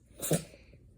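A dog gives a single short, sharp sneeze close by, with a breathy burst and nothing else around it.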